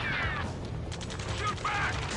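Gunfire crackles in an Ace Combat 7 battle scene, a dense fusillade of overlapping shots and mechanical clatter under shouted voices, with no clear pauses across the short burst.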